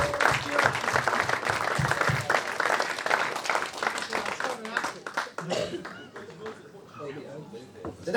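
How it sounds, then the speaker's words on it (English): A room full of people at a youth rugby league awards evening gives a sustained round of applause, dense clapping that thins out toward the end, with some voices mixed in. "it deserves a round of applause for what those lads"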